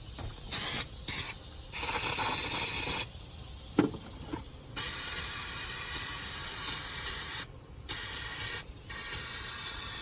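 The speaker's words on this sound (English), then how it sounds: "And we just need to spray this off." Aerosol spray hisses in repeated short and long bursts, cleaning diesel off the fuel lines and fuel injection hose of a 1985 Mercedes 300D, loud and close with brief pauses between blasts.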